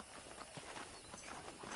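Horse hooves clip-clop at a steady walking pace in the video game Red Dead Redemption, faint and even, with no talk over them.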